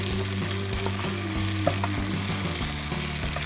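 White rice, two cups, tipped into a hot pan with melted butter and pepper, frying with a steady sizzle and occasional scraping stirs, close and alone.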